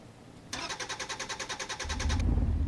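A V8 engine swapped into a Citroën C15 in the video game Drive Beyond Horizons cranks with a rapid rhythmic starter chatter, then catches and settles into a deep, loud rumble.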